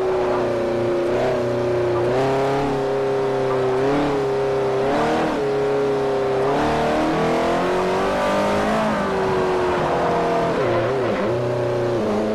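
A Saleen S5S race car in Forza 4 with its engine revving hard and climbing through the gears, pitch rising and dropping at each shift, loud and constant throughout.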